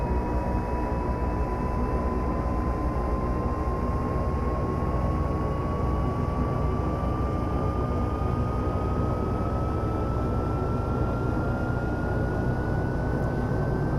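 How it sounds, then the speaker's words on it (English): The left engine of a twin-engine aircraft spooling up in the X-Plane 11 flight simulator, a steady loud roar with a whine that climbs slowly in pitch as the engine winds up, and no talk. "we'll start the left engine"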